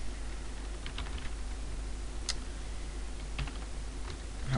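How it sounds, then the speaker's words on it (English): Someone types a password on a computer keyboard. A few soft, scattered keystrokes sound close by over a steady low hum, with no talking. "helps if I type my password in right there"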